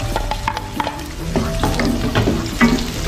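Onion, garlic and ginger sautéing in a hot pan, a steady close sizzle broken by the scrape and clatter of stirring, with no voices.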